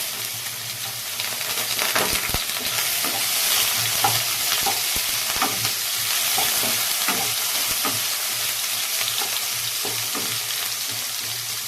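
Chopped onions frying in hot oil with asafoetida, heard up close as a steady bright sizzle with periodic scraping and clinking stirs of a spatula against the pan and no talking.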